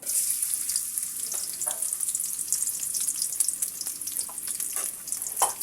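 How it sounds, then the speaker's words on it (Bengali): Chopped onion fries in hot oil in a wok, giving a steady, close sizzle with occasional stirring scrapes and small pops, and no voices. "এবার আমি পেঁয়াজটাকে ব্রাউন কালার করে ভেজে নেব।"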